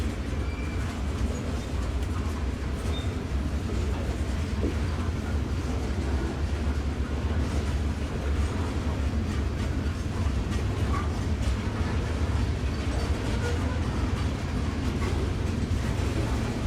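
A long CSX freight train rolling past at night, a steady, loud rumble of wheels and railcars with faint clickety-clack, continuous throughout with no voices.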